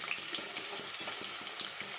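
Sliced big onions with fennel seeds and curry leaves sautéing in oil in a kadai for egg gravy, a close steady sizzle with light repeated stirring scrapes.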